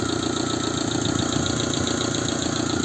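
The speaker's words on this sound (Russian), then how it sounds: "Двигатель нормально работает, не троит, не дымит" A Daewoo Matiz engine idles close up with a steady, even rhythmic chug and no misfiring or other sounds.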